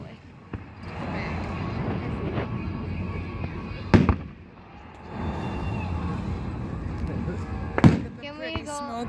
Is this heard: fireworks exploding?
yes